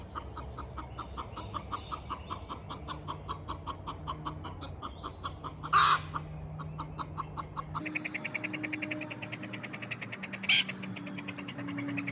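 A rooster crows loudly twice amid a steady chorus of chirping insects or frogs, with a low background hum throughout.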